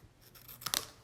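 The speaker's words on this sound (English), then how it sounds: "you cut it, and again, using craft scissors." Craft scissors snip through material in one quick cut, close and quiet, with a couple of sharp blade clicks and no talk.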